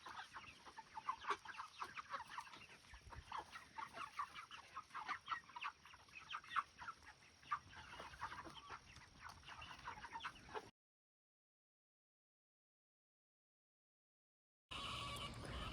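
Cornish Cross chickens forage on pasture inside electric fencing, clucking softly and repeatedly in a quiet flock chorus, broken by a stretch of silence before faint sound resumes.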